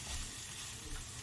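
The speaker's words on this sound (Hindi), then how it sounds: "2 से 3 मिनट के लिए हमने इनको सौटे करना है।" Vegetables for a potato samosa filling sautéing in a hot pan, a dense, even sizzle with faint stirring noise, close and steady through a short moment with no talk.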